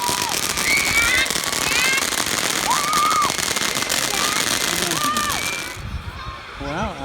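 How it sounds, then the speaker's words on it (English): Fourth of July fireworks crackle and pop continuously nearby, with whistling streaks rising over the dense bursts while people talk and exclaim throughout. "I like the fireworks."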